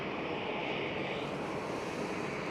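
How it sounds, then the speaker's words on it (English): An Emirates Boeing 777 SkyCargo jet rolls after landing at Schiphol, a steady broadband engine roar heard from a distance, unbroken throughout. "So Emirates 777 Sky Cargo just landed."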